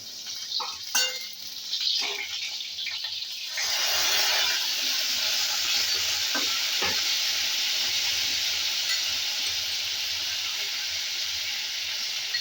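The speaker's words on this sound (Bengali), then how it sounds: "প্রায় পটলটা ভাজা হয়ে গেছে" Pointed gourd sizzling in a pan with yogurt added, a steady bright hiss swelling louder partway through and holding, with a few scrapes and clinks early on.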